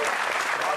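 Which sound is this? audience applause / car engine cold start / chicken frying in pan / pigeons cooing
audience applause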